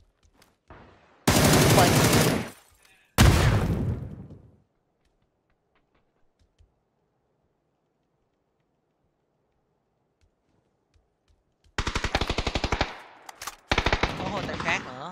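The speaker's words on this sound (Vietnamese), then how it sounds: "mấy ông bắn bên đó vậy" Rapid automatic gunfire from players in the video game PUBG comes in two loud bursts, then a long quiet stretch before two more bursts near the end, with brief talk.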